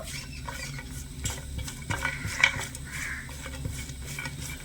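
Chopped almonds and cashews fried in a pan over low gas rattle and patter softly as a spoon keeps stirring them, with light scraping and small clicks against the metal.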